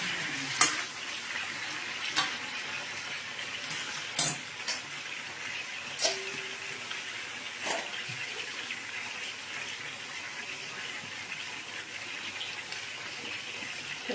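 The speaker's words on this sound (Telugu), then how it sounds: "వేయించుకోవాలి." Brinjal menthikaram curry, Andhra style, sizzles steadily as it fries in a pan, with a few sharp utensil clinks against the pan and no talking.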